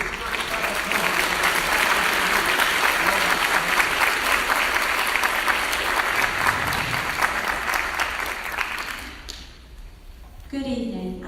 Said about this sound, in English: Would you join me in giving a round of applause to all the newest church staff members?